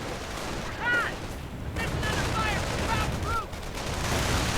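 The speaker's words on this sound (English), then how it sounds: "Fire being exchanged, gunfire as well." Gunfire exchanged in a 1v1 World War II strategy game battle between German troops and opponents, with dense volleys of shots and an anti-tank gun, sustained over a steady battlefield din with a few whistling tones.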